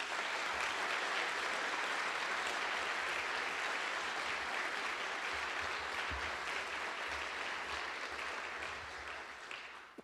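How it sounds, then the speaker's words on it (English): A large audience claps in a dense, sustained round of applause that stays even for several seconds before tapering off at the end. "I would appreciate a round of applause for them."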